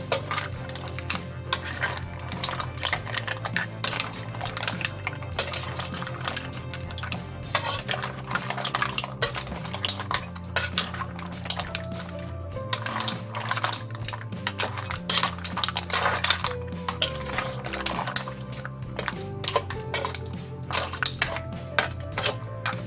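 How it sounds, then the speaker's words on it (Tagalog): Seafood, corn and potatoes being mixed in a pan, with dense, continuous clattering and scraping of a utensil against metal, close and busy throughout. "Tapos i-mix lang natin para maghalo-halo sila."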